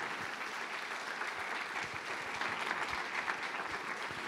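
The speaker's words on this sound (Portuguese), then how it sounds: "E se possível, você vai aplaudir o nome de Jesus." A church congregation claps together, a dense and steady wash of applause that continues evenly throughout, heard from within the crowd.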